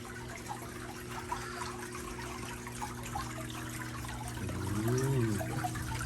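Gentle trickling of an indoor decorative waterfall in an office space, a soft continuous splash under a low steady hum, with a brief warbling tone rising near the end.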